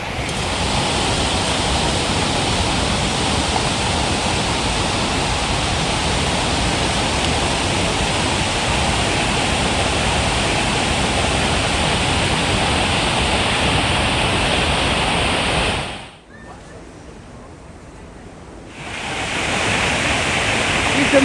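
Massive curtain of water thundering at Devil's Throat, Iguazu Falls: a loud, constant roar that briefly dips and muffles near the end before returning at full strength.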